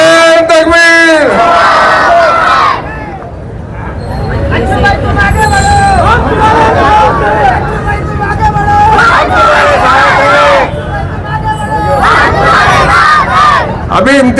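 A large crowd at an outdoor political rally roars a loud chanted response to a slogan, with repeated surging shouts and babble, traffic noise underneath and a voice leading the chant.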